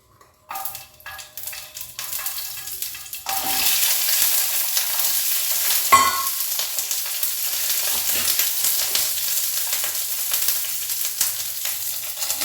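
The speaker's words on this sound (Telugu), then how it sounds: "ఆయిల్ వేసుకున్న కొంచెము ఒక రెండు టీ స్పూన్లతో ఇప్పుడు ఈ పచ్చిమిర్చి వేయించేసుకుందాం" Green chillies are tossed into about two teaspoons of hot oil in a pan, starting with a few clatters before a loud, steady crackling sizzle takes over, with a sharp burst of spatter midway.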